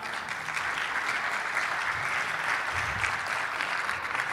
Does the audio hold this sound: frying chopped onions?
no